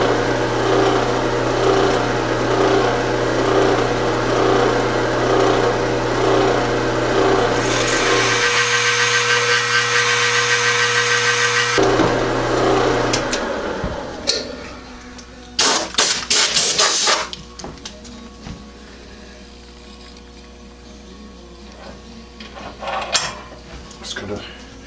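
A drill whirs steadily for several seconds, shifting pitch as it bites into metal drilling 6.5 mm clearance holes, then stops, followed by clinks and handling noises.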